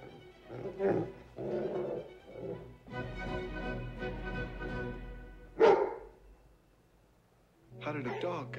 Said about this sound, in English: How did a dog get in there?